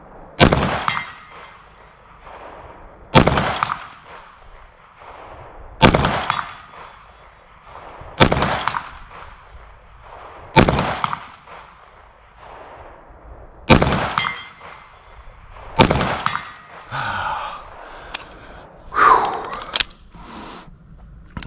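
Walther PDP SD Pro Compact pistol shots ringing off steel targets outdoors: eight loud, evenly spaced reports about every two and a half seconds, each followed by a sharp metallic clang and a brief decay.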